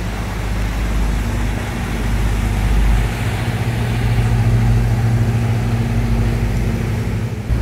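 A motorboat engine steadily roaring and building on the open lake near Lemmer, a loud, continuous low drone that swells slightly as the throttle opens, with wind and water rush throughout.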